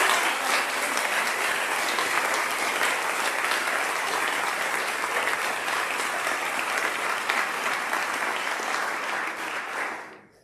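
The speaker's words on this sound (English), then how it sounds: "can we just give such a loud applause" An audience at a faculty convocation gives loud, dense applause that carries on steadily for about ten seconds, then quickly dies away at the end.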